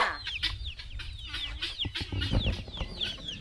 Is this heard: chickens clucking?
yes